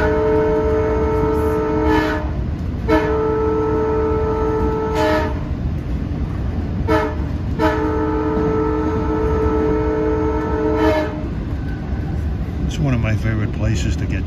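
A Long Island Rail Road train sounds its horn in several repeated blasts, long and short, over steady rumbling rail noise at close range.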